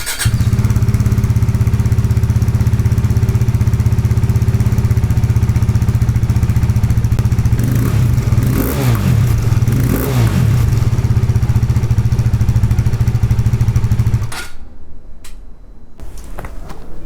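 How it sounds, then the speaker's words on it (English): A KTM RC390 motorcycle with its stock exhaust idles steadily with a deep, even exhaust throb for about fourteen seconds, briefly rising in pitch midway, then the engine note drops away abruptly. "getting a sound clip of the stock exhaust"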